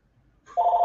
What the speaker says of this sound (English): No, that's just my phone.